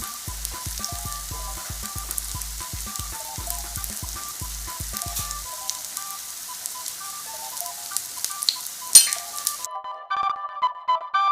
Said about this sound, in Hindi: थोड़ा थोड़ा कर कर हम इसे दोनों तरफ से फ्राई कर लेंगे।